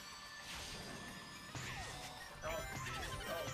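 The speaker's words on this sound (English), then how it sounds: "Sonic, just run into every wall, why don't ya?" Crashes and smashing impacts in the Sonic Generations video game as Sonic slams into walls, several loud bursts in quick succession over a busy game soundtrack.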